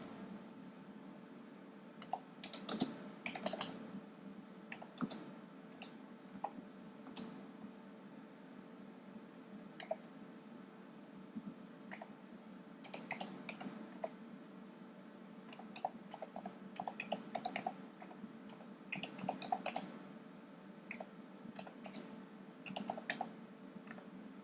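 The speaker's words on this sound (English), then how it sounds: "I'm going to type in the following command" Keys click quietly as a command is typed on a computer keyboard, in irregular bursts of taps with pauses between them, under a steady background hum.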